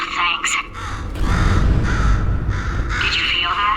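Loud crow-like squawking and cawing from a bird in the Portal 2 video game, several harsh calls spread across a few seconds with game voice talk mixed in.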